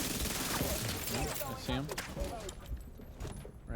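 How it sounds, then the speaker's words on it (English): Enemy gunfire in the video game The Division 2, with repeated bursts of shots crackling through the scene while someone talks over them almost throughout. "he keeps shooting me from cover"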